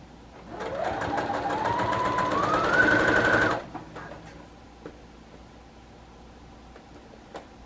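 A sewing machine stitches curtain fabric in one continuous run of about three seconds, its whir climbing in speed before it stops abruptly, leaving quiet with a few faint clicks.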